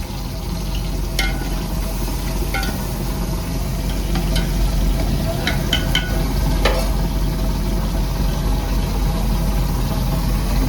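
Onion, garlic, tomato and chili sizzle in hot oil for a tempering, cooked aboard a fishing boat. A steady close frying crackle is broken by sharp scraping stirs, over a low engine-like drone.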